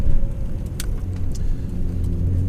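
A Nissan R32 Skyline GT-R V.spec II engine rumbles as the car is driven, with a steady, close, low growl over a couple of seconds.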